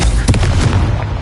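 A Confringo blasting spell cast in Hogwarts Legacy on PS5: a loud, dense fiery boom with crackling bursts that rumbles on for over a second.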